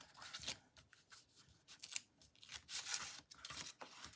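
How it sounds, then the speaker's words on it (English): Backing strips are peeled off double-sided tear and tape on a patterned-paper gift bag: faint, close, dry tearing and rustling in short irregular bursts, with a few soft crinkles between them. "I'm going to peel away these pieces"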